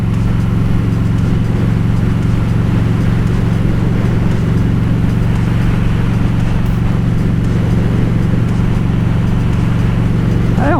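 Steady low engine drone and road rumble from a Harley-Davidson Road King motorcycle cruising along a road, continuous and close with wind noise, no speech.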